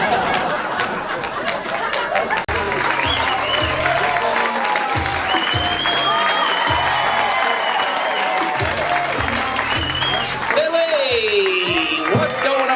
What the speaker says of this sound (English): Having a round of applause for him.